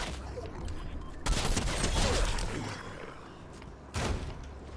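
Sniper rifle fire in the Fortnite video game, two sharp loud shots a few seconds apart over a rumbling game soundscape.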